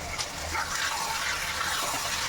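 Boiled chickpeas being rinsed in water, a steady splashing, running-water wash that fills the short span at moderate level with no talk.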